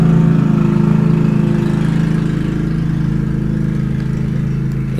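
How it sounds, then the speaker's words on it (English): A lawnmower runs close by with a steady droning engine hum, loud and constant, slowly easing slightly in level over several seconds. "This motherfucking lawnmower is legitimately pissing me off."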